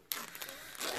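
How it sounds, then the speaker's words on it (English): Crinkly plastic packaging being torn and ripped open up close, a sudden start followed by continuous rustling and crackling. "So I'm just going to open this pack."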